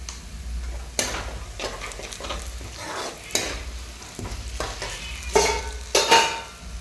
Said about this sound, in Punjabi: ਅਜੇ ਦਾਲ ਦਾ ਤੜਕਾ ਰੈਡੀ ਹੋ ਗਿਆ ਵਿੱਚ ਆਪਾਂ ਇੰਨੀ ਪਾਵਾਂਗੇ ਦੇਗੀ ਮਿਰਚ